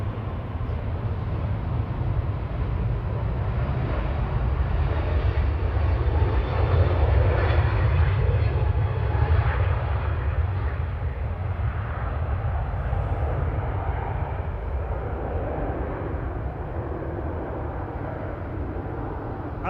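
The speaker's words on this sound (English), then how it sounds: "Turkish on the roll, heading back to Istanbul now." A Turkish Airlines jet rolls down the runway for takeoff at Manchester Airport on a wet evening, its engines a loud, continuous roar that holds steady throughout.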